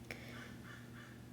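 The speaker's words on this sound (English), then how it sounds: "you hear the crows." Crows caw faintly in the distance, a few scattered calls over a steady low background hum with no speech.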